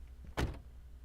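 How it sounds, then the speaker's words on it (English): Passenger door of a moving company's van swinging open in the game The House in Fata Morgana, one brief mechanical clunk over a quiet low hum. "the passenger's door swung open."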